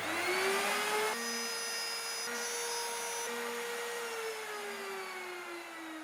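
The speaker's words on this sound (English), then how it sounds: "After I route out the channel for the first pickup and measure that I have the correct depth on it, I just repeat the same process for the next one" A router cutting a pickup channel into a wooden guitar body, a loud steady high-pitched machine whine with shifting tone as the bit works the wood, no speech.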